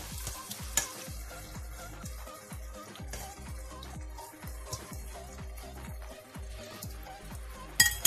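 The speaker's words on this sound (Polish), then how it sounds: "I do 3 minut podsmażyć." Tomatoes fry in a pan for borscht, a soft sizzle under repeated scraping strokes of a utensil stirring and pressing them, fairly quiet and close with no talk.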